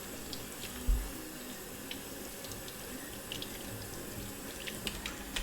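Lukewarm water pours steadily from a kitchen tap into a sink as aubergines are rinsed, a constant gentle rush with a single low knock early on and faint occasional splashes.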